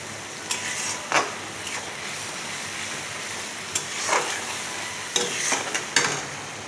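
Spice paste with turmeric frying in oil for a hilsa fish curry, a steady hissing sizzle with a few scraping strokes of a spatula against the pan, close and without speech.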